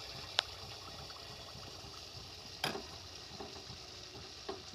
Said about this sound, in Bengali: এবার আমি পোয়া পিঠেগুলো অল্প অল্প ব্যাটার দিয়ে আমি এই দেখো অল্প অল্প ব্যাটার নিয়ে আমি এবার তেলের মধ্যে ছাড়বো।